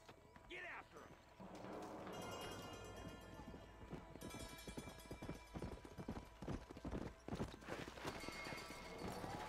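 Horse hooves gallop in the Red Dead Redemption video game, a fast, loud rhythmic clip-clop that builds into a steady run over game music and ambience, with voices speaking at times.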